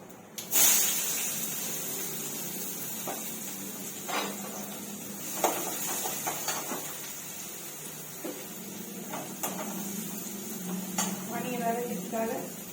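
Onions frying in oil in a kadai give a steady hiss and spray-like sizzle, with occasional clinks of a utensil against the pan, close by throughout.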